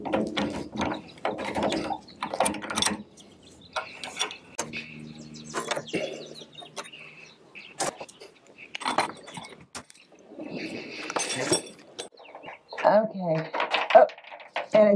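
Metallic ratcheting and clicking of a turnbuckle being loosened on a sailboat's bobstay, in short bursts of clatter with pauses, while someone talks nearby.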